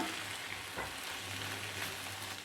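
Ivy gourd and beans stir-fry with curry leaves cooking in a pan: a constant soft sizzle with faint scraping as the vegetables are turned, moderately quiet and without speech.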